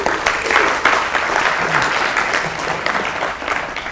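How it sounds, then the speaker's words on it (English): An audience applauds speaker Adam Jacob at a tech talk, a loud, sustained wash of crowd clapping that swells early and gradually eases off. "So please give him a large round of applause."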